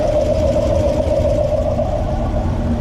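A V8 car fitted with a VVT3 cam, long tube headers and a catted X pipe idles steadily and loudly nearby, its lopey rumble constant with no revving.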